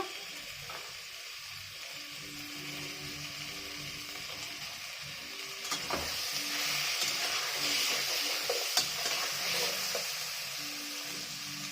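Khichdi with pumpkin and mixed dal sizzles steadily in a pot as tomato and potato go in and get stirred, a continuous frying hiss that swells midway with scraping stir strokes, no talking.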